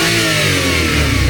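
A Suzuki minivan engine fitted with a power jet revs hard and stays loud and steady throughout, a close, continuous roar with no voices.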